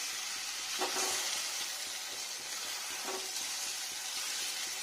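Fritters made with coriander paste, egg, lentils and poppy seed fry in a frying pan, giving a steady close sizzle, with two brief soft stirring scrapes.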